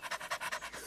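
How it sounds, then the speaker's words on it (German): A dog pants in quick, even rhythmic breaths, close and fairly soft, with no voices over it. "Dieses Hecheln sieht sehr komisch aus."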